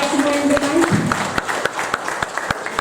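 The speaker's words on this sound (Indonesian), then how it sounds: "tepuk tangan buat Bapak-bapak semua yang depan" Scattered applause from a small gathering in Medan Johor, with a voice talking over the start, then sharp individual hand claps popping out irregularly and close by.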